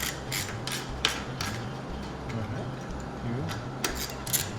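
Ratcheting 10 mm bolts tight on an Infiniti Q50 during a sport-model conversion, with quick metallic ratchet clicks in short bursts over a low background hum.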